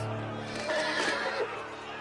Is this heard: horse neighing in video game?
yes